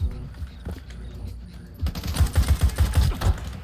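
A full-auto burst of rifle fire in Stalker 2: Heart of Chornobyl, a rapid run of close, punchy shots in the second half after quieter game sounds.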